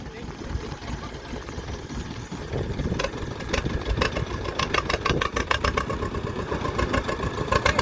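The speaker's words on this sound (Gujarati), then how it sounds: "ટ્રેક્ટર શરૂ કરી દીધું છે" A tractor engine idles with a steady low chugging rumble during heavy rain, with people talking over it and some sharp clicking taps in the latter half.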